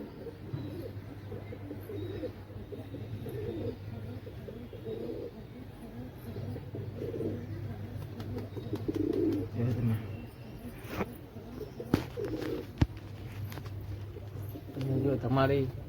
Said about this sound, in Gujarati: બધા કબૂતર વિખર થઈ ગયા.